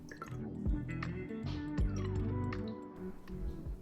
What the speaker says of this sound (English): I add all the ingredients into a small container: lemon juice, olive oil, balsamic vinegar